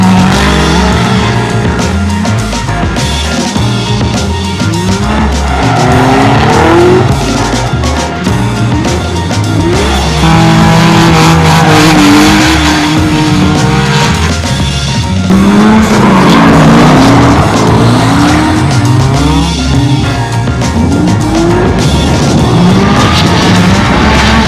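Race car engines roar continuously at close range, revving up and down with repeated tire squeals over a loud, steady mechanical din, during practice and competition at Englishtown's Gambler event.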